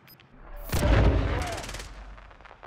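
A single loud shotgun blast in the Warzone video game, with a heavy booming body that rolls and decays over about two seconds.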